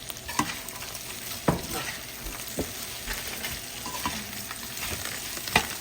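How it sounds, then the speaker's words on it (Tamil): Anchovies sizzle and crackle in a hot pan while being stirred for nasi goreng, with sharp scraping clicks from the spoon against the pan. "நாங்கள் நெத்தலியை போட்டு பிரட்டுவோம்"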